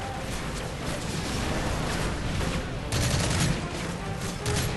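Continuous gunfire from Call of Duty Modern Warfare 3, dense overlapping shots forming a steady fusillade with a louder burst near the end, no clear talk.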